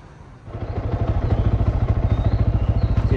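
A Sym VF3i motorcycle fitted with a racing exhaust pulls away close by, its engine rising from a low idle into a loud, rapid, pulsing exhaust beat.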